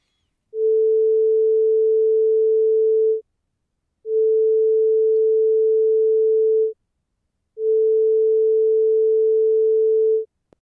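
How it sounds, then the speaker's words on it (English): A pure 440 Hz sine tone sounds in three steady bursts of about two and a half seconds each, constant in loudness and separated by short silences, with nothing else present. "a sine wave, one single component at 440 Hz whose amplitude is constant"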